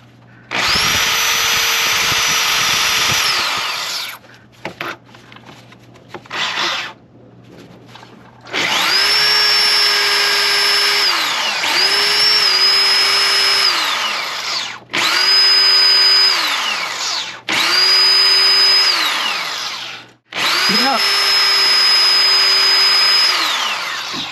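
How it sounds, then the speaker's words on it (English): A corded DeWalt drill bores into a broken exhaust manifold bolt on a 2017 Ram 1500 with a 5.7 Hemi, whining loudly in six long bursts separated by short pauses and clicks. "I had to bring out my corded DeWalt here"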